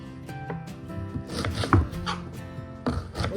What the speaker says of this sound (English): I'm cutting it into fairly big strips, and then I'm cutting the strips into thirds